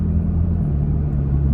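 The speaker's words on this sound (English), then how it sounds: "You can actually hear the vehicle shift because the exhaust note changes" Aftermarket exhaust on a Toyota Tacoma pickup cruising near 54 mph, a steady low rumbling drone with a slight shift in tone as the truck changes gear, close and continuous.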